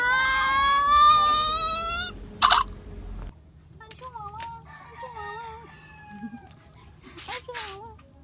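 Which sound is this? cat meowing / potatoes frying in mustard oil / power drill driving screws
cat meowing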